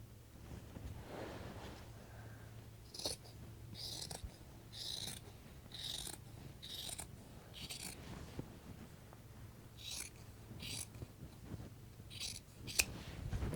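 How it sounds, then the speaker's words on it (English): Fabric scissors cut into a shirt in a steady series of crisp snips, roughly one per second, close and moderately quiet over a low background hum. "We cut one shirt."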